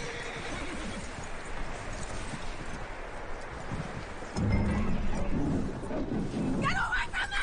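A horse in the open-world western game Red Dead Redemption 2 whinnies amid hoof clops and rustling, with game characters talking over the soundscape.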